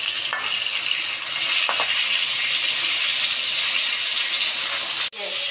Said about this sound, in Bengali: একটু পটলটাকে ভেজে নিতে হবে।